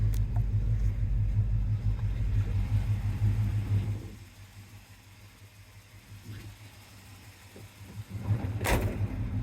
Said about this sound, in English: Exhaust sounds really nice too.